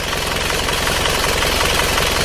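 An idling engine with one cylinder blowing by from a scored, worn liner, running loud and close with a steady, rapid knocking rhythm and a regular puff every two revolutions.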